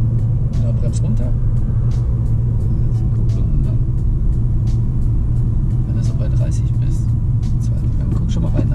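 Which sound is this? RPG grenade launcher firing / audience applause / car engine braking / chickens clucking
car engine braking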